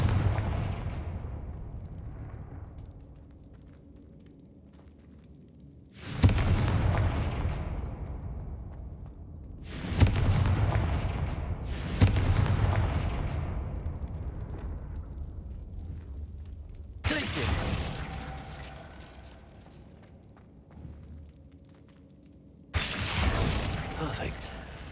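Confringo fire-spell explosions in the Hogwarts Legacy video game, five or six loud booming blasts spaced a few seconds apart, each with a long rumbling decay, loud and close.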